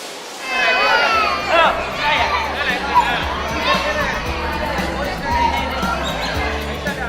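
Indoor crowd chatter in a busy cool hall, a dense babble of many voices with children's calls and footsteps, continuous and moderately loud throughout.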